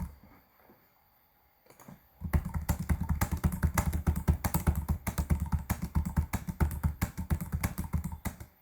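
Fast, steady typing on a computer keyboard, close and clear, with rapid key clicks in an even rhythm after a brief quiet start.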